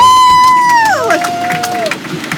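A tour audience on the Universal Studios Hollywood tour cheers, whoops and applauds for the tram driver, a steady crowd roar with some shouts and a clear whistle-like call rising and falling.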